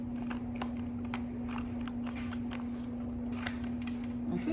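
Scissors snip through Christmas card paper in a short run of quick, close cuts, each crisp snip standing out over a steady background hum with no one talking.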